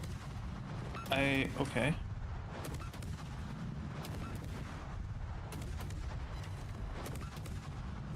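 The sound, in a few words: warship artillery firing in the video game World of Warships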